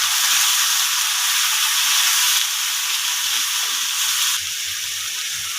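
Ground cumin, turmeric and chili powder sizzle loudly in a hot pan, a dense, continuous hiss right up close that eases slightly in two steps toward the end.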